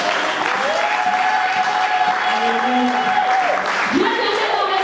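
Church congregation at a women's convention applauding the Lord, dense sustained clapping from a crowd while a voice keeps speaking and calling out over it.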